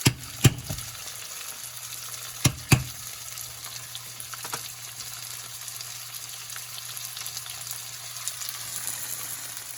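Biryani rice fries in a pan, tossed with a few sharp clatters early on, then settles into a soft steady sizzle, close and fairly quiet, with no voices.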